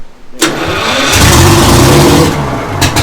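A Detroit Diesel 6-71 engine cranks and catches with a sudden burst on its first start, then runs loud and rough at a steady roaring idle, up close.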